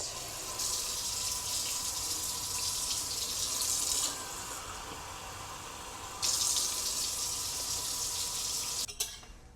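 Very warm tap water runs from a kitchen faucet for bread dough, a steady hissing stream that stops and restarts, ending with a short clatter, no voices.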